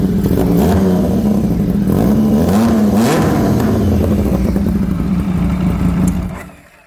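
The engine of a handmade custom chopper motorcycle idles and revs up and down in a loud, close throaty rumble with a few rising blips, then cuts off at the end.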